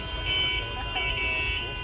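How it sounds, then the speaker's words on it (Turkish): Car horns honk repeatedly in busy Cairo traffic, short blasts overlapping amid engine rumble and voices talking nearby. "korna basmaya devam ediyorlar"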